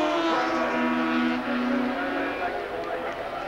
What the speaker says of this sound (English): The Yamaha TZ750 engine was missing, and you can see just now what a speed advantage the Shivers bike has down Conrod Strait